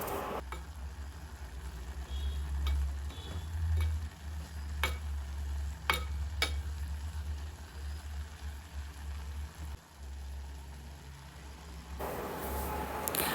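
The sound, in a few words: stirring grated coconut into a vegetable dish in a pan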